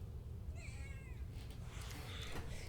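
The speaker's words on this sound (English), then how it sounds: "Thief Kitty would love to say hello to you, except he's currently ensconced on the top of his chair" A house cat gives a short series of meows with wavering pitch, close and moderately loud, followed by faint background noise and low hum.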